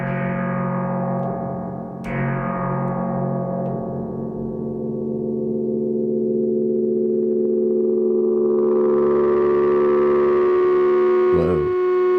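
A modular synth spring reverb driven into feedback, its sustained tone swelling and swooping upward into a runaway distorted howl, loud and continuous with a sharp click near the end.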